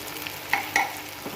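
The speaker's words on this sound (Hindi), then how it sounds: "1 कप जो है ना पानी डालूँगी" Water hits hot frying minced meat in a pan and sets off a soft, steady sizzle with a couple of brief sharper hisses. No one talks.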